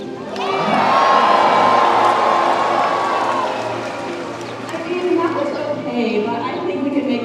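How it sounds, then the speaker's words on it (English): Loud crowd cheering and shouting, children's voices among it, fills a dolphin show arena at Marineland in Niagara, Canada, swelling at once then easing into a steady murmur with scattered whoops. "I'm going to need everybody to give a big cheer."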